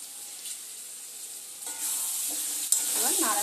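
Crab masala is stirred in a pan over low gas, a soft sizzle that grows louder midway, followed by a sharp clink and scraping movements near the end; no speech.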